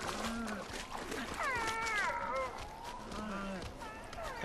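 Goats bleating in the Far Cry Primal video game: wavering, cry-like bleats rise and fall over a busy ambient background with running footsteps, fairly faint overall.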